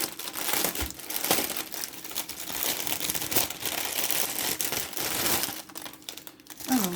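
Small plastic packets of diamond painting drills are handled and rustled at close range, a continuous crinkling and crunching of plastic bags with scattered sharper rattles, loud and steady throughout with no talking.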